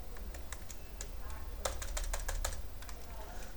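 Rapid clicks from a computer keyboard as code is typed, in quick irregular bursts with a denser flurry midway, close and moderately loud over a low steady hum, with no voice present.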